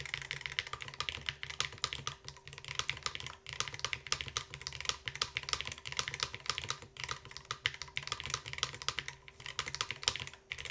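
Steady, rapid typing on a low-profile keyboard, dense clicky keystrokes continuing without pause, close and fairly loud.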